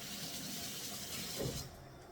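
Tap water runs in a kitchen sink while hands are washed after handling meat being laid out to dry, a soft, steady splashing flow heard faintly for a couple of seconds.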